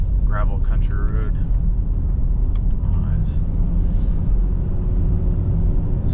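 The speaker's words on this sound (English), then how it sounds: "Alright, so I'm turning on to a dark gravel country road." A Honda car rolls onto a dark gravel country road at night, its steady, loud engine and road rumble continuous throughout, with a person talking briefly near the start.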